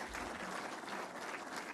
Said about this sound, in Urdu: ان کے لیے آپ بھرپور تالیاں بجائیں